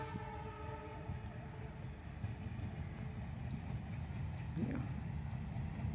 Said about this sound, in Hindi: देखो दोस्तों ट्रेन कितना हॉर्न मार रहा है